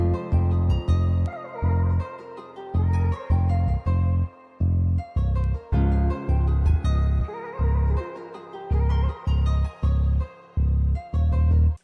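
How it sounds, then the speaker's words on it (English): A pickless pick bass preset from X-Band plays a repeating pattern of short, punchy low notes in steady rhythm, with brighter plucked tones ringing above in a guitar-style trap beat made in FL Studio. "this pickless pick bass from X-Band"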